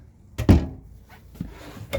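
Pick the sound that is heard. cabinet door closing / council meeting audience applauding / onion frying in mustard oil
cabinet door closing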